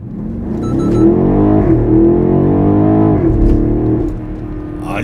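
A BMW X6 M50i accelerates hard, its exhaust rising in a steady, loud, close growl that climbs in pitch over several seconds before easing off.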